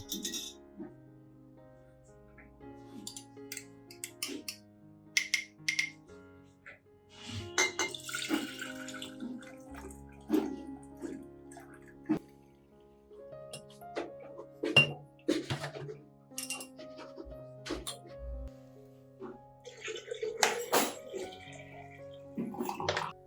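Water pours and splashes into a container in short bursts, with occasional clinks and drips between pours, close up and fairly quiet.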